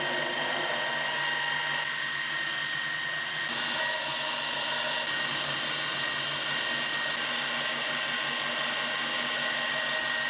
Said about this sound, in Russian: решил еще просверлить отверстие вот в этой алюминиевой заливке между полюсами